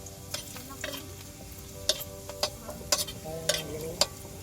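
Onion frying with mutton in a pan, a steady sizzle under repeated scraping strokes of a spatula and sharper metallic taps, close and continuous, with no talking.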